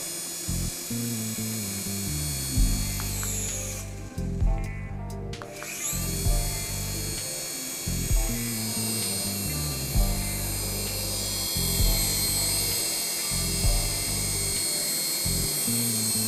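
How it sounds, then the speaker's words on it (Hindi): A toy RC helicopter flying indoors gives a continuous high-pitched whirring buzz from its small motor and rotor, loud and close. The pitch surges and drops repeatedly as the throttle changes, with one brief break partway through. "इसी तरीके से आप इस आरसी हेलीकॉप्टर को फ्लाई कर सकते हैं"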